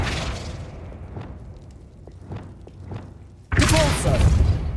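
A spell cast in the Hogwarts Legacy video game lands with a sudden loud thumping burst, following softer scattered impacts and a low background hum of game effects.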